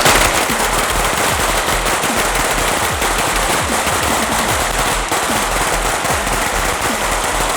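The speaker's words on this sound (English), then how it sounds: "We're just gonna go ahead and burn in 30 rounds in your new guns" Several freshly built AK-47 Kalashnikov rifles firing together on a range, a dense, loud, continuous roar of overlapping shots that never lets up.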